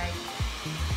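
A handheld hair dryer blows air over hair in a steady, close whooshing rush, briefly fluttering as it moves.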